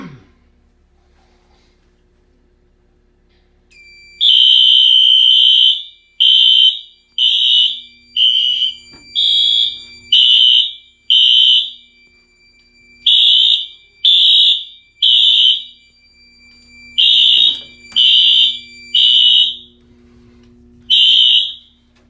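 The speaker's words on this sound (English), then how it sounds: "it should set the system into alarm" A newly installed security alarm system sounds during a test, a loud piercing electronic tone in rapid repeated bursts of about half a second, starting after a few seconds of near silence.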